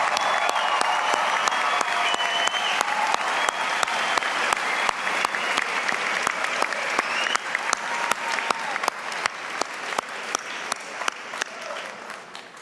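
A large audience at a university commencement ceremony claps in sustained, dense applause that holds steady for several seconds and then gradually thins out toward the end.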